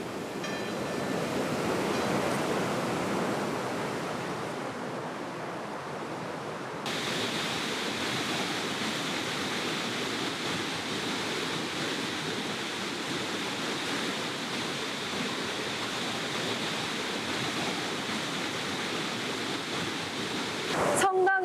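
Waterfall pouring beside the church at the Covadonga Catholic shrine in the Picos de Europa, a steady broadband rush of falling water that holds loud and constant throughout, with a brief dip partway through.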